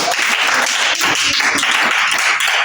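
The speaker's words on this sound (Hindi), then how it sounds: "शाबाश, ताली होनी चाहिए इसके लिए।" A class of students applauds a classmate with dense, loud, continuous clapping from many hands nearby, steady throughout with no pauses.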